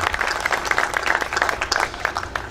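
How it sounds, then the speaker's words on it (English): At a depot ceremony, a crowd gives a brief round of applause for a city councilman, brisk overlapping claps at moderate distance with a low rumble underneath. "Let's give Councilman Williams a round of applause."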